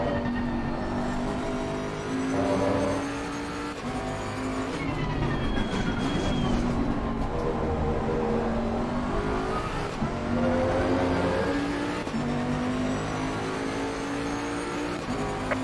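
A race car engine in SimSpace R5 at the Kyalami circuit drones loud and continuous, revs climbing and dropping through gear changes as the car laps, with no talking over it.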